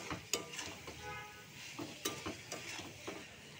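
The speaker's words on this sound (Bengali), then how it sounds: "এবার দেবো লঙ্কার গুঁড়ো, দেবো জিরে গুঁড়ো, ভালো করে কষিয়ে নেব।" Chili and cumin powder are stir-fried in a pan with a spatula. Soft scraping and stirring strokes sound over a faint sizzle, punctuated by several sharp knocks of the utensil against the pan.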